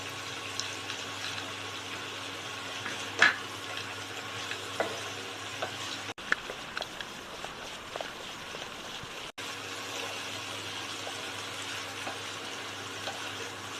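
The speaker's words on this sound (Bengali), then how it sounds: "এবার আমি এর মধ্যে দিয়ে দেবো ভেজে রাখা বড়িগুলো" Pre-fried lentil dumplings (bori) simmer and fry in a spinach vegetable curry, giving a constant soft sizzle and bubbling with light stirring clicks and scrapes close by.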